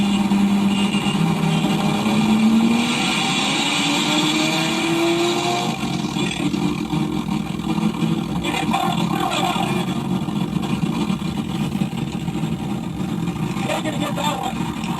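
A single-turbo street-racing car engine pulls up alongside another car, its loud revving drone rising in pitch and then holding steady under wind and road noise, with voices talking over it.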